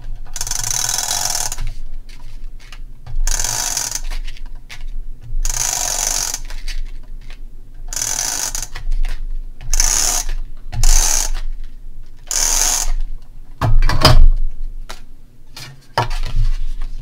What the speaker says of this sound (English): So I'm just going to use my tape runner.